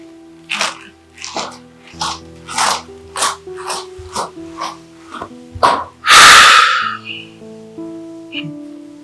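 A single loud, explosive sneeze bursts out after a run of short voiced sounds, then a brief quieter vocal noise follows.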